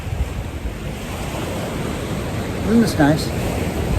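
Ocean surf washing over coastal tide pools, a steady broad rush of waves and wind buffeting the microphone, with a brief spoken line near the end.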